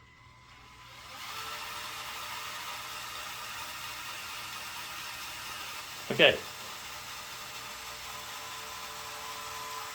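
Electric motors in a Lego Technic ride-on zero-turn mower model run as a steady whirring hum, driving both the engine and the blade beneath, with a brief louder burst partway through and a single short spoken word near the start.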